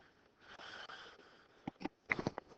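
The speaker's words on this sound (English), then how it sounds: "Sorry, I had to cough." A couple of short, sharp coughs close to the microphone after a stretch of quiet, breathy rustling.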